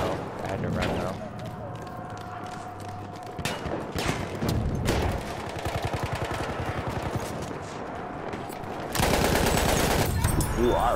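Rapid gunfire bursts from the Battlefield 1 video game, repeated volleys with a dense loud stretch near the end, heard under overlapping talk from players.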